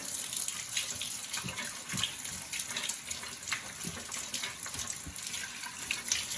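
Steady rush of hot water running from a utility sink tap, a continuous splashing hiss with small spatters, fairly close and alone.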